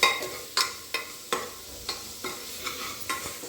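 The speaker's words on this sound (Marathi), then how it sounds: "मसाले बऱ्यापैकी परतत आलेले आहेत" Ground spices sautéing in a pan on a low flame for vatana batata bhat, with a soft sizzle broken by a regular rhythm of spatula strokes scraping and tapping the pan about every half second.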